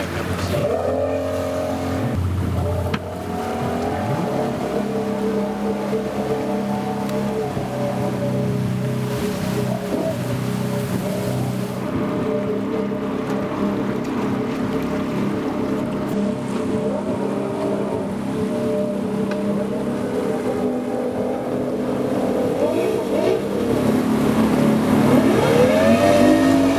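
An SJX jet boat runs up a tight, twisting river, its engine a loud, steady drone with rushing water beneath, shifting in pitch as it works and building louder toward the end, with no talking.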